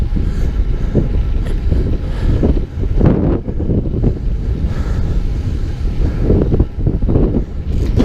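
Heavy wind buffets the microphone during a bike ride on a countryside loop, a loud, continuous rumbling roar with gusty surges throughout and no talk.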